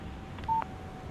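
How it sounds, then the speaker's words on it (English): A phone text message alert in the Alan Wake video game, a single short electronic tone standing alone and fairly quiet. "Text message from Barry"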